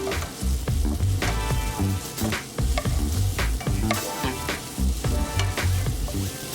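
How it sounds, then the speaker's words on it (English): Minced vegetables stir-fried in hot sesame oil over medium heat, a steady loud sizzle broken by repeated scraping and clattering strokes of a utensil against the pan, close by with no talking. "When sufficiently hot, add the minced vegetables and stir fry until fragrant"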